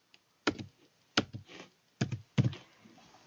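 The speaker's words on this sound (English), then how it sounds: "I'm gonna type in that code over here." Four separate bursts of keyboard tapping as a login code is typed on a computer keyboard, each short cluster of clicks close and clear against a quiet background.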